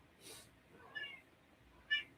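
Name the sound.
pet cat meowing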